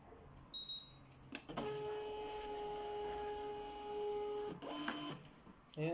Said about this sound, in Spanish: Como la etiqueta es de ese tamaño, pero la voy a imprimir correctamente.